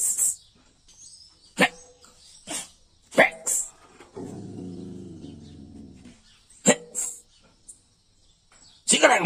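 Dogs barking, with several sharp, separate barks spaced across the stretch and a longer drawn-out vocal passage in the middle, close and fairly loud, with people talking around them.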